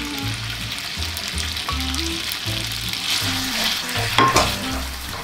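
Boiled glass noodles stir-fry in oil over high heat, giving a continuous close sizzle and crackle with a few scraping stirs, under soft background music.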